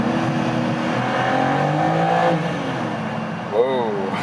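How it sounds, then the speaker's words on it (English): A BMW M4 or Audi RS5 sports coupé revs hard after a paddle downshift inside a road tunnel, a loud echoing engine drone that climbs then settles, with someone talking over it. "Being in the tunnel, of course, we can shift down ourselves here with the pedals."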